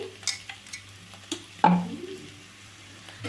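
Ridge gourd fry with grated fresh coconut stirred in a pan on the stove, soft scraping spoon strokes with a few sharp clinks against the pan, one louder knock midway, faint sizzle underneath, no talking.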